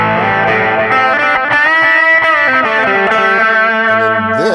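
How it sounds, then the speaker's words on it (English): Overdriven guitar played through the delay effect of a Line 6 POD Express pedal: a loud stream of distorted notes and chords with repeating echoes trailing each one, continuous and up close, with no voices. "And this will add our delay in."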